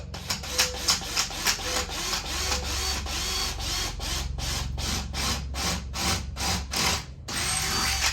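A power drill bores through a car body panel while a Krotov duckbill spoiler is being fitted, giving a close, loud grinding whir that pulses in short bursts of several seconds each, with no one talking.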